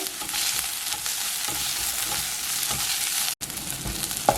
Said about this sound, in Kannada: ಮೀಡಿಯಮ್ ಉರಿಯಲ್ಲಿ ಇದನ್ನು ಒಂದು ಎರಡು ನಿಮಿಷ ಹುರ್ಕೋಬೇಕಾಗುತ್ತೆ